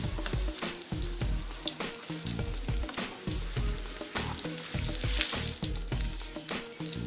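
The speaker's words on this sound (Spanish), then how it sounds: "vamos a aceite caliente, freímos la tortilla" A tortilla fries in hot oil with a steady, bright sizzle over a low, rhythmic tonal backing, close and moderately loud throughout. No voices.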